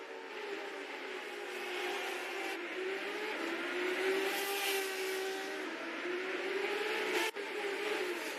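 Race car engines in the NZ SuperLap virtual racing game whine continuously at a moderate level, the pitch rising and falling as cars accelerate and shift, with a brief dip near the end.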